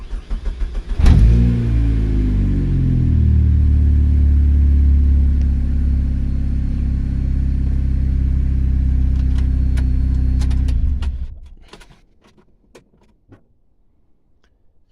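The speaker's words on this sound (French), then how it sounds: "L'Opel Speedster, on met le contact, les voyants s'allument et le bouton Start est ici." An Opel Speedster engine cranks and fires, then settles into a loud, steady, close idle with a low rumble that holds for about ten seconds before it shuts off, leaving a few faint clicks and ticks in near silence.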